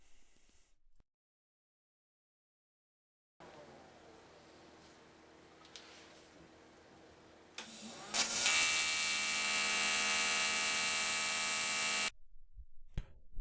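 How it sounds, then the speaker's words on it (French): An aluminium mountain bike frame is welded, with a low hum and faint crackle giving way to a loud steady hiss from about eight seconds, close and continuous before cutting off. "Soudure d'un premier arrondi."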